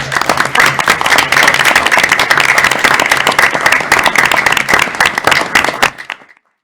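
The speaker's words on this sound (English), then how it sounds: "So I think we should give our interns a round of applause for sure." A school board meeting audience gives the interns a round of applause, loud dense clapping from many hands that holds steady for several seconds and then tapers off quickly into silence.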